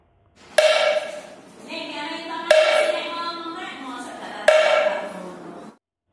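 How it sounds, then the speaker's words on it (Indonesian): A wooden kentongan slit drum is struck three times, loud and close, each hollow knock ringing briefly before the next beat, then it stops. "Kalau bunyi kentongan seperti ini."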